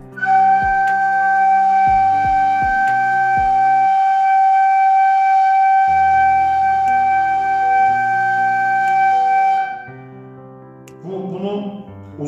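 Ney flute held in one long, steady sustained note, loud and close, with a bright, breathy whistling tone over a low accompanying drone, ending after about ten seconds in brief softer sounds.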